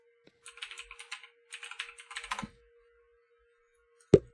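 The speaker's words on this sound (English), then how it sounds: "why do I hear some mechanical keyboard sounds" Mechanical keyboard typing, heard as two quick clusters of crisp, close keystrokes, followed by a louder single clack after a pause.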